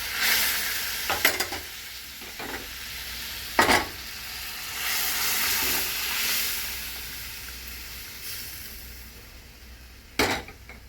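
Spices tempering in hot oil for a masoor lentil dal with bottle gourd and tomato give a steady close sizzle and hiss, broken by a few sharp metal clinks of stirring.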